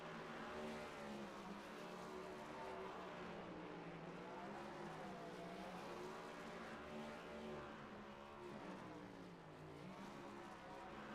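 The number 13 NextGen Cup race car doing burnouts in the iRacing game at Atlanta Motor Speedway, a sustained engine roar with wavering pitch and tire squeal throughout.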